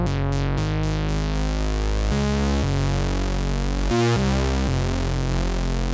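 A retro synthwave bass patch built in the Phase Plant synth plays a loud, sustained bass line that steps between notes, its filter cutoff swept by an LFO for a pulsing, wobbling tone, with no voices.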